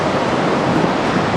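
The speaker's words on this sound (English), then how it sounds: "here is the Baspa river flowing here" The Baspa river flows through the valley below Sangla town on the Rupin Pass trek, a steady, full rushing wash of water that holds an even loudness throughout with no voices.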